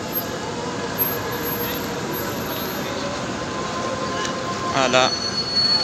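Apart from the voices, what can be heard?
metro train passing, wheels squealing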